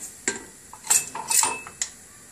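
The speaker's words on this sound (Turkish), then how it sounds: "Sürekli karıştırarak sosumuzu pişireceğim." A spoon stirring mac and cheese sauce in a metal pot, a few quick clinks and scrapes of utensil on metal in a short, close burst with quiet in between.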